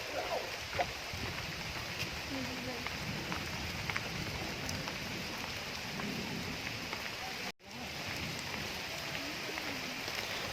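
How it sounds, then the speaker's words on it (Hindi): Steady rain falls near a lake in Renuka, Sirmaur, Nahan, a dense continuous hiss throughout with a brief dropout, faint background voices underneath. "बारिश बहुत तेज होगी भाई।"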